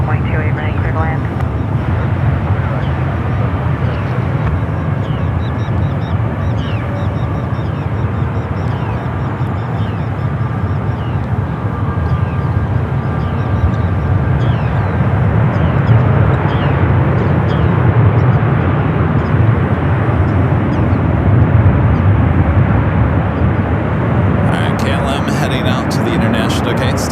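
Heavy jet airliner landing on runway 28 right at San Francisco airport, a steady loud roar of engine noise sustained throughout, with faint radio talk underneath.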